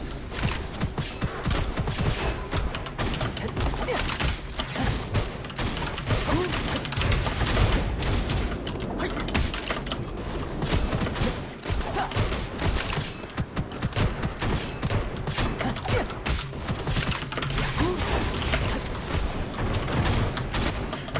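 Continuous gunfire from a fast-paced shooter game as the Monkey character Xing Zhe attacks: dense, rapid rattling shots stream without pause for about twenty seconds, loud and close, with mechanical clatter mixed in.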